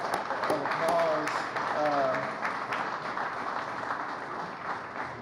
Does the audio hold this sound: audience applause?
yes